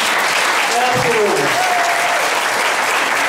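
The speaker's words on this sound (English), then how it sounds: "you can clap for that" A crowd claps steadily and loudly throughout at a Greene County Republicans picnic, with a voice speaking over the applause.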